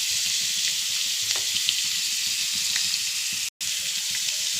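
Spices with chilli powder and turmeric fry in a spoonful or two of oil in a pan, giving a steady, close crackling sizzle with a few soft stirring scrapes and one brief dropout.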